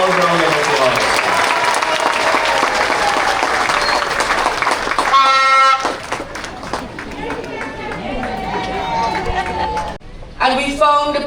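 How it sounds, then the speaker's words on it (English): An audience applauds the Minister of Education at a school commissioning ceremony, with dense clapping and crowd chatter. A brief burst of rapid, hard clapping stands out midway, and the applause thins out toward the end. "Let's give her a loud round of applause."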